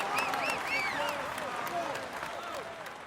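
A game crowd applauds the winning rider at the finish of the Tour de France 2016 video game stage on the Champs-Élysées, steady clapping and crowd noise with whistles and voices rising through it.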